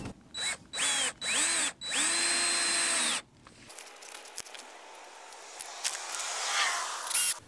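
A power drill drives a screw through a strap into a greenhouse baseboard, four or five short whirring bursts of speed up and slow down nearby, followed by quiet outdoor rustling.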